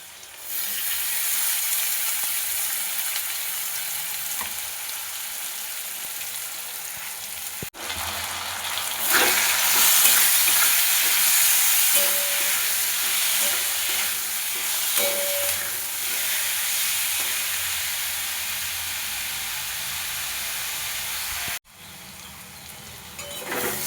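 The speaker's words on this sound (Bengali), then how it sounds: "আলুগুলো মোটামুটি ভাজা হয়ে গেছে। এবার এর মধ্যে দিয়ে দেবো পেঁয়াজ আর রসুন এর পেস্টটা।" Potatoes fry in a pan as onion and garlic paste goes in, a loud continuous sizzle that flares brighter partway through, with scraping stirs and brief clatters of utensils.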